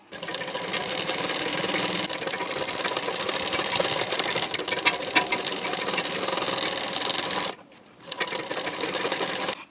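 An electric sewing machine runs a stitch along a folded 2-inch waistband strip for a boat-neck blouse: a loud, close, continuous whirring rattle that pauses briefly near the end and then starts up again.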